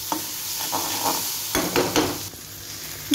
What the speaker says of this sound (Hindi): टमाटो ए सब को आमे भाजीबा